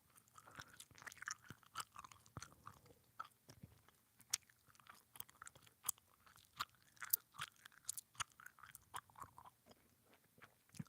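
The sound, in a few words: fast chewing mouth sounds, ASMR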